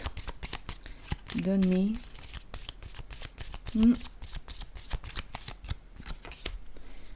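Tarot cards being shuffled in quick, steady riffling flicks that continue almost throughout, close and crisp, with brief speech from a person in between.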